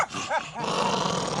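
A dog growls in a camper van during European van travel, a low rumbling growl that swells into a sustained grumble after a brief dip, fairly close and moderately loud.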